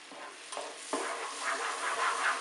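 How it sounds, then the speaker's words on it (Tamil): A spoon stirs rava and ghee in a hot pan for fruit kesari, producing a few soft scraping strokes over a gentle sizzle, close and brief. "ஸோ நல்லா ஸ்டெரர் பண்ண ஆரம்பிங்க."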